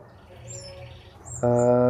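A canary sings a broken roll song, chirping faintly at first, then bursting into a loud, buzzing trill near the end, close by.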